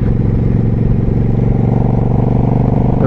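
A motorcycle engine runs steadily while riding on a clear day, a continuous close, loud drone with a constant pitch and no speech over it.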